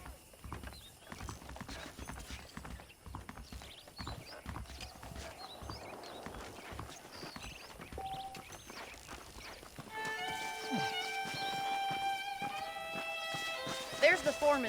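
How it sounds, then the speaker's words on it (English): Horses clip-clop at a walk in the Red Dead Redemption video game, steady hoofbeats running under dialogue, with a music bed rising in the final seconds. "The horses are saddled up over here."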